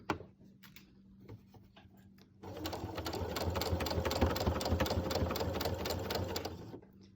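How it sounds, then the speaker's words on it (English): A sewing machine stitches the seam of a fabric face mask in a fast, steady run of needle strokes. Quiet handling noises come first, then the machine starts up and runs close by for about four seconds before stopping. "Now, don't sew over the pins, that'll break the needle."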